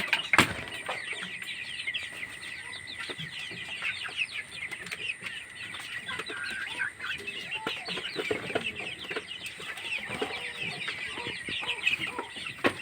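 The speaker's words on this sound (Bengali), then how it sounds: "এই পাশে আছে আমার দেশি এবং কি ব্রয়লার কক মুরগি" Native and broiler chickens cluck and chatter continuously on a poultry farm, several birds overlapping in a busy, fairly close flock with occasional sharper calls.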